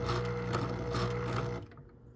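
A sewing machine stitches fabric for a memory ornament, a close, steady mechanical whir with a rhythmic pulse that runs for about a second and a half, then stops abruptly.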